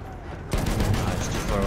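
Gunfire in the first-person shooter Battlefield 1, a sudden loud burst of shots that breaks in halfway through and continues as dense, rumbling weapon noise.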